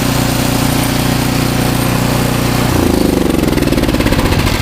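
A Craftsman snow blower engine runs steadily during auger repair, a loud close chugging drone that shifts pitch and grows rougher partway through, with no voices.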